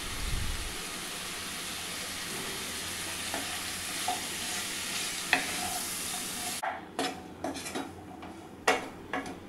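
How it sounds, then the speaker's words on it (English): Cauliflower with turmeric, ginger garlic paste and salt cooks over a low flame in a pan, giving a steady soft sizzle. Scraping stirs and clinks of the utensil against the pan follow near the end. "Mix well and cook this in low flame till the cauliflower becomes soft."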